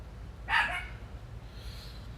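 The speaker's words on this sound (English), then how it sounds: "She barks too much. For a small dog, she has a big bark." Lizzie, a small dog, gives one short, sharp bark over a steady low background hum, then falls quiet.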